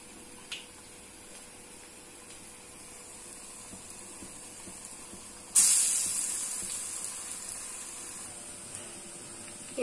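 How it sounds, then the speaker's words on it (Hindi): Black-eyed bean vadas deep frying in hot oil in a pan: a steady low sizzle that jumps to a loud bright hiss and crackle midway as more batter meets the oil, then slowly settles. "इन वड़ों को फ्लिप कर लेते हुए डीप फ्राई कीजिए।"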